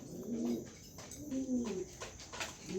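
Pigeon coos in repeated low rolling phrases, about three calls close by, soft and alone over faint background noise.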